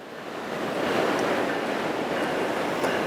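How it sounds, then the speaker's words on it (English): Ocean waves wash onto the beach at San Clemente, California, a broad steady surf hiss that swells in the first second and then holds, with no voices. "Spend a little bit of time with that sound of the ocean waves."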